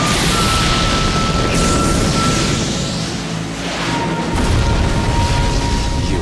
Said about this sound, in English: Fire style. Blaze ball.